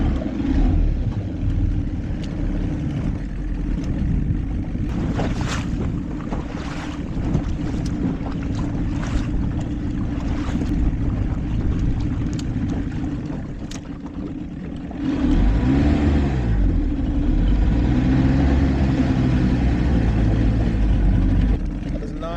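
An old 50-year-old bass boat's outboard engine drones loudly under wind and water noise, the pitch rough and wavering as it struggles, then surging louder midway; people talk over it at times.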